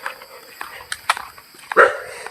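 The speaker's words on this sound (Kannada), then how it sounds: "ಡಾಗ್ಸ್" Dogs barking at night outdoors, a few scattered barks at moderate distance with one louder bark near the end, mixed with faint background voices.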